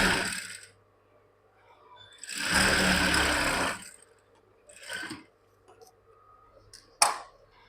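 Sewing machine stitching a blouse patti, running in short bursts: a brief run, a longer steady whir of about a second and a half, then short stabs and a sharp click, with quiet pauses between.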